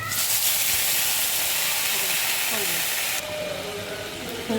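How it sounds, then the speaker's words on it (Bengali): Water hitting a hot pan for a Bengali amodi fish chorchori bursts into a loud, dense steam hiss that drops abruptly partway, leaving a quieter bubbling sizzle with faint clatter. "এবারে আমি একটু জল দিয়ে দেবো।"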